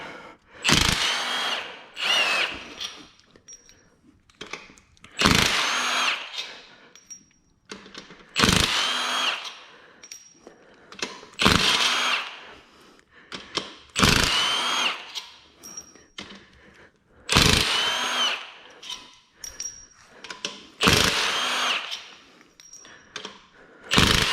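A power tool runs in repeated bursts while removing bolts from a BMW M50 engine, roughly eight loud whirring spurts with short pauses and clanking between them.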